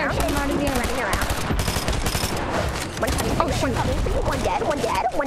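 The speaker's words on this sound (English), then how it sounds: "shoot him out of the air" Dense automatic gunfire from the Fortnite video game rattles loud and near with almost no break, while players talk excitedly over it.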